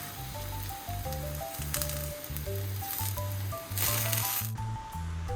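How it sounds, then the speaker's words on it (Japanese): Eggplant slices pan-frying in oil in a frying pan, a steady close sizzle and crackle running throughout with a brief louder hiss near the end, while a tonal melody plays underneath. "揚げ焼きではないですが、フライパンでも焼いてみました。"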